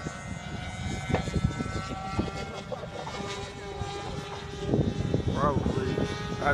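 A radio-controlled model airplane's engine and propeller drone steadily at a distance, the pitch rising and wavering as it flies, with people talking nearby throughout.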